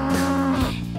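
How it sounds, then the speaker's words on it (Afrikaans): Cattle lowing in a long, steady moo that fills the whole second, loud and close, with a strong harmonic tone and no talk over it. "Hoor jy die bees wat bulk?"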